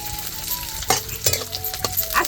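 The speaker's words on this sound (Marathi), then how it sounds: "कसं तुडतुड वाजत आहे तेल." Onion and garlic hit hot oil in a pan and crackle with sharp spitting pops and bursts of sizzle, loud and close, with a bit of stirring.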